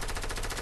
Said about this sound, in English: They're shooting at other people.